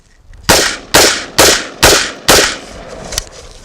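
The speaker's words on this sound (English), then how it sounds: "we're going to fire a couple rounds to prove that it works" Five sharp AR-15 rifle shots fired outdoors during a mud test, spaced at an even, steady rhythm about half a second apart, each loud and close with a brief decaying tail, followed by a faint click.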